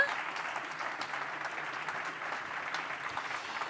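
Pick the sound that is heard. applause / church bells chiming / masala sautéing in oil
applause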